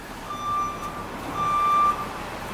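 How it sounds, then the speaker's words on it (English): Warning buzzer in a 1994 Ford F-350 4x4 flatbed truck with a 460 engine: a steady electronic tone sounds in two sustained beeps over low cabin hum. "I'll get rid of that buzzer for you too."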